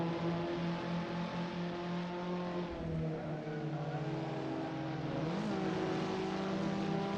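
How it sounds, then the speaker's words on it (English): A Caterham Academy race car engine in the Assetto Corsa racing game at Mugello, a steady buzzing drone with a clear drop in pitch as it downshifts to climb a hill, then rising revs. "I downshift there trying to get up the hill."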